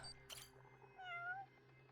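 Cat meowing in the Judgment video game: one short, faint meow with a rising then falling pitch, heard quietly over low background hum after a brief rustling sound.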